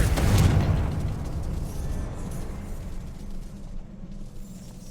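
A Confringo fire-spell explosion in Hogwarts Legacy on Xbox Series X opens with a strong low boom, then fades into a long rumbling tail under steady game ambience.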